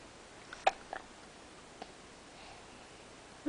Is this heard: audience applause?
no